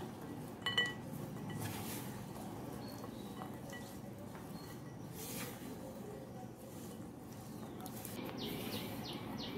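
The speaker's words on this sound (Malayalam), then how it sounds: "ഇതൊന്ന് ഇളക്കി കൊടുക്കാം" Dry fruits being stirred with maida in a bowl for a Christmas fruit cake, with soft scraping and faint clinks of a spoon against the bowl, quiet and steady with no talking.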